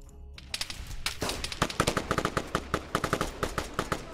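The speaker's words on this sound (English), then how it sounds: "they're basically firing through the cracks in the HESCO" Automatic gunfire in a military video game set at a HESCO-walled base, rapid bursts of close, sharp shots rattling in uneven clusters, with no talking.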